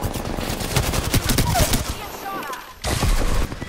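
Shotgun blasts in a sci-fi shooter video game, rapid bursts of gunfire packed tightly under an overlapping voice, loud and close with a brief lull near the end.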